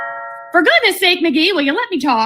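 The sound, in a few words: doorbell ringing, radio drama sound effect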